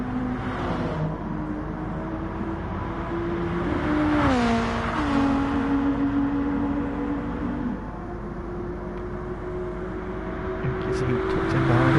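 Race cars in Gran Turismo Sport during a two-hour online race, a loud sustained engine whine rising and falling through gear changes, with another car's tone sliding past midway.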